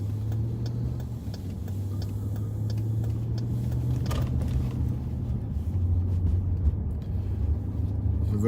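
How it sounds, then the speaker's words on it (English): A light rail train car passes at a distance, a steady low rumble with faint ticking, with no clear rise or fall as it goes by. "that was a light rail train car that went by"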